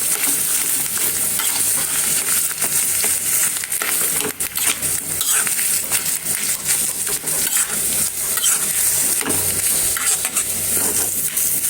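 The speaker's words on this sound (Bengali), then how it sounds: "ভালোভাবে তেলের সঙ্গে আর মশলার সঙ্গে মিশিয়ে নেব যে শুকনো মরিচের সঙ্গে।" Ash gourd leaves stir-fried in oil with spices and dried chili, a loud, close, constant sizzle broken by brisk, repeated stirring and scraping against the pan, with no voices.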